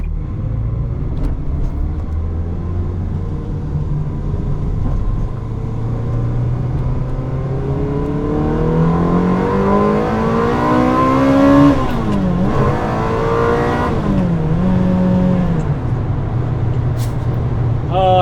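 A Ferrari on a dual carriageway on the way to the Nurburgring accelerates hard, engine note climbing steadily through the gears with a gear shift mid-run and rising again, loud and close from inside the car.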